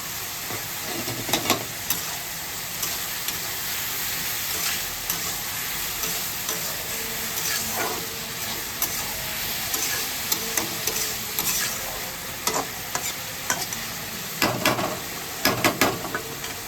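Pre-fried lentils tipped into a hot pan, setting off a dense continuous sizzle with bursts of steam hiss and scattered spoon scrapes and stirs, close and fairly loud.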